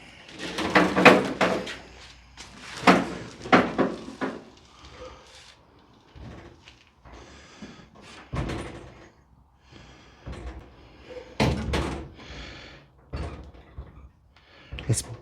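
Door of a 1953 Ford being worked and closed while its hinge pins are replaced, a series of close metallic clunks, rattles and knocks scattered irregularly through the stretch, with some talk in between.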